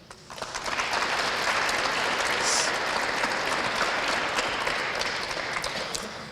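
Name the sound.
audience applause at school military recognition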